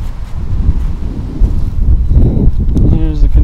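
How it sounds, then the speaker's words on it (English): Strong gusty wind blowing outdoors on a windy day by a lumber-strewn yard, heavy buffeting rumble on the microphone throughout, loud and close, with a voice briefly speaking near the end. "It's a windy day."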